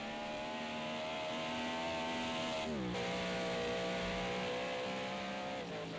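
An Audi Quattro race car engine in Project Cars 2 at Donington Park GP circuit, droning loud and steady at high revs, with a brief dip as it shifts gear near the middle and another small drop near the end, alone with no voices.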